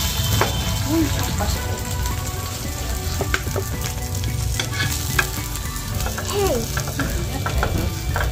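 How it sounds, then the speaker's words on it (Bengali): Capsicum frying in a pan gives a steady, close sizzle that runs through the whole stretch, with light scraping and clinking from stirring scattered throughout. "এবার আমি ভাজবো ক্যাপসিকাম।"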